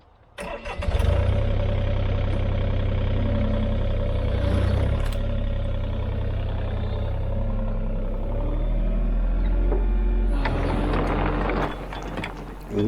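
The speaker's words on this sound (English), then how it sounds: "they didn't want to overload the little tractor, so they made it so you can't pick up much" A small tractor engine runs steadily at a low rumbling idle while it loads debris at a cabin clearing, loud and close, with the revs rising briefly near the start and again toward the end.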